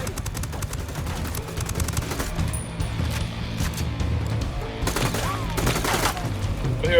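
Bursts of automatic gunfire crackle in Ghost Recon Wildlands, loud rapid volleys interrupted by brief pauses, with sharp distant shots and a firefight continuing throughout.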